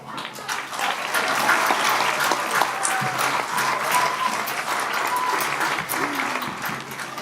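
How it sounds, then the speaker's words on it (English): Steady, dense audience applause at a Wizard of Oz stage show for the actor playing the great Oz, continuous clapping from a full crowd with faint voices mixed in. "Give a round of applause for the great Oz or professor."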